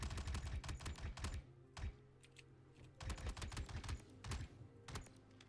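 Bursts of rapid automatic gunfire in the video game Star Citizen, several rattling volleys separated by short pauses and single shots, punchy and close.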